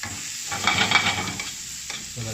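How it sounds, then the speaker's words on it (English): Onions sizzle softly over very low heat in a pan with bacon drippings as a utensil stirs and scrapes through them in short close bursts, with no talking. "you're gonna go ahead and turn the onions"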